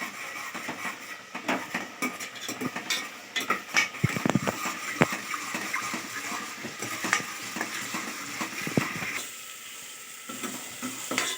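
Spices fry in a pan for a dondakaya masala curry with a steady sizzle, while a utensil stirs and scrapes against the metal in repeated, uneven clinks and scratches close by.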